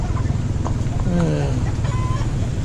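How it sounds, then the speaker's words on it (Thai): Chickens at a market stall selling chickens and ducks during a Hmong New Year festival, clucking and short warbling calls close by amid crowd noise and nearby voices. "ที่เป็นห้างตลาดขายไก่เลยไก่เป็ด"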